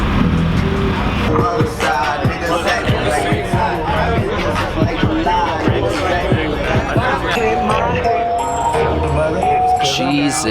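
Cars arriving at the Super Street car show, engines rumbling and revving nearby amid crowd chatter and outdoor bustle, with vehicles passing throughout.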